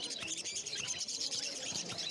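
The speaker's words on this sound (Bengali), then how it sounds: "এখন আমি চলে এলাম উলুবেড়িয়া পাখিরহাটে" Pet birds at the Uluberia bird market give off a faint, dense, continuous chatter of overlapping high chirps and tweets, heard from a slight distance.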